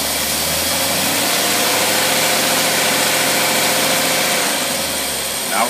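An engine with a single barrel carburetor runs loud and close, its steady rumble rising as fuel is fed in and easing back near the end, with no talking.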